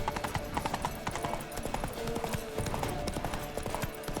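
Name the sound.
horse hooves in video game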